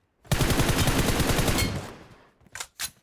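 Rapid automatic gunfire in the PUBG Mobile video game: a loud, fast rattling burst of about a second and a half, followed by a couple of separate single shots.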